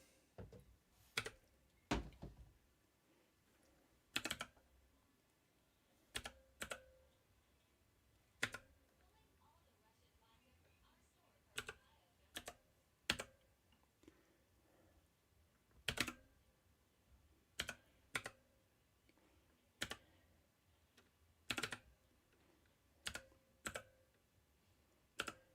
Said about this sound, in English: when I'm typing this in